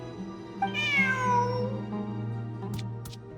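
A single drawn-out cat meow from the video game Genshin Impact, clear and close, over a low steady electronic hum, followed by a couple of faint clicks.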